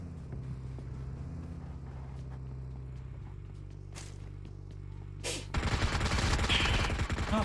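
PUBG Mobile gunfire erupts suddenly in a loud, dense burst of automatic shots near the end, after a long stretch of steady engine-like drone and scattered clicks.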